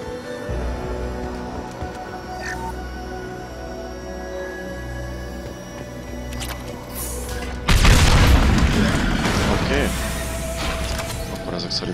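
Tanks blow up in the Mass Effect 2 video game: a heavy boom hits after a stretch of low mechanical game ambience, then a loud rumbling roar lingers and fades.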